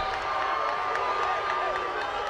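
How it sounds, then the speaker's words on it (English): A lacrosse championship crowd murmurs and shouts in a steady, distant roar of disapproval over a referee's call at a high school game between Bishops and Coronado. "a lot of the crowd does not like that call"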